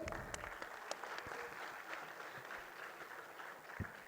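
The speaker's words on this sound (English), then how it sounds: "Guys, give a huge round of applause for Asit." Faint, distant applause from an audience at a medical college annual function in Bhopal, a soft, continuous patter of clapping with a few sharper claps standing out over about four seconds.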